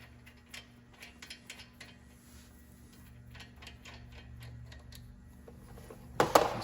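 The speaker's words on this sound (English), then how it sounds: "now I'm just taking the caliper off. It's got two 19mm bolts." A socket ratchet clicks in quick, faint bursts while the two 19mm bolts come off a 1500 Silverado brake caliper, ending in a louder metallic clatter as the part comes free.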